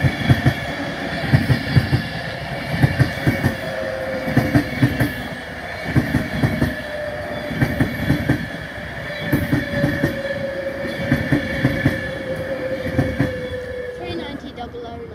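A train hauled by the locomotive Blue Peter runs along the West Coast Main Line, loud and close, with a steady rolling roar and rhythmic clickety-clack of wheels over rail joints throughout.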